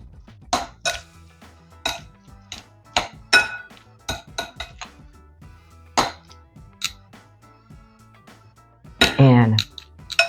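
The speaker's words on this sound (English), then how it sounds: "Give it a nice toss until this lettuce is thoroughly coated" Lettuce being tossed with dressing in a bowl, a string of sharp clinks and light knocks from utensils against the bowl at an irregular pace, quiet between hits, with a louder clattering burst near the end.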